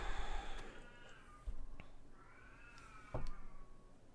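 A cartoonish video game cat meows several times in quick succession, drawn-out wavering cries separated by soft thumps, fairly close and clear with no talking.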